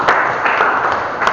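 A small audience claps at a motivational talk, a short burst of loud, steady hand claps that swells and fades.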